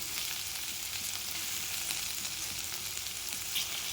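Sliced okra frying in a pan for a masala okra dish, a steady, fairly quiet sizzle with a constant crackling hiss and no talking.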